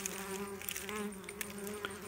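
A honeybee laden with pollen buzzes steadily at the hive entrance, a close, continuous hum with a strong low tone, alone and unbroken throughout.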